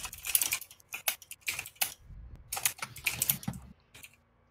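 Typing on a keyboard over a radio channel in a multiplayer flight-simulator session, a quick irregular clatter of close key strikes in short bursts with brief pauses, no talk, resembling a vintage typewriter.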